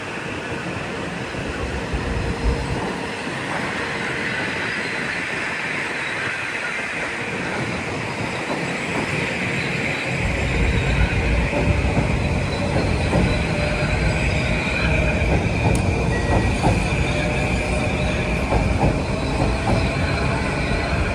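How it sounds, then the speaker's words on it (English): Commuter train bound for New Haven, stopping at Stamford and Bridgeport, rolls through Harlem with a steady loud rumble and wheel squeal, growing heavier midway and continuing for the whole stretch, no voices. "This train is it's a speedster, makes Stamford, Bridgeport, and all stops to New Haven."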